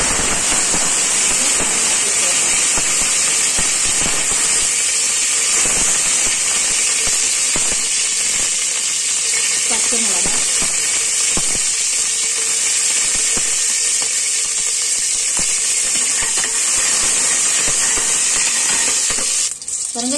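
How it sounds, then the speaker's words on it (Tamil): Mustard seeds splutter and crackle in hot oil, a dense, steady, loud sizzle of fine pops that runs without a break, as tempering for parpu saadam (dal rice). "இந்த மாதிரி நல்லா சத்தம் வரணும் கடுகு"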